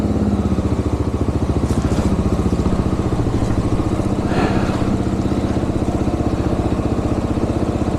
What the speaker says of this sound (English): haul a paramotor on the back of a motorcycle through a dirt road in the Andes for hours on end